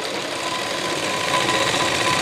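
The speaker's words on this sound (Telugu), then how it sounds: "రెండు గట్టి కుట్లు వేస్తున్నాను నేను, గట్టి కుట్లే వేయండి." A sewing machine stitches lehenga fabric with a steady, continuous whirring drone, close and fairly loud, running without pause and with no voices.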